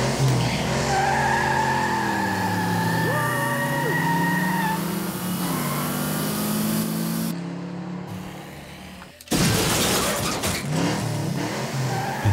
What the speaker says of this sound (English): I got some racing car sound effects and added them to it.